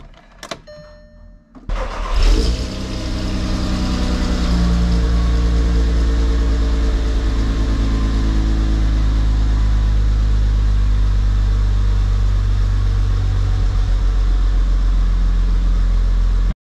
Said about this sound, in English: The engine still runs super strong with the built head, the upgraded valve springs and valves.